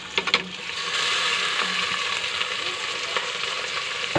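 Pork cubes sizzle and crackle steadily in a hot pan while being stirred, with a few scraping clinks of the utensil early on; close and continuous, with no talking.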